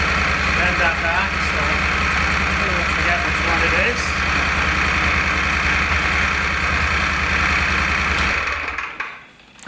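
A Moto Guzzi Stelvio motorcycle with its stock muffler idles loudly and close, a steady throbbing rumble that runs unbroken for several seconds before dropping off abruptly at the end.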